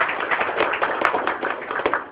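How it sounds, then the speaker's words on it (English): Applause for a comedian at a birthday party, with a short, close burst of clapping from a small crowd that carries on at a steady level with a few sharper claps. "Give him a big round of applause"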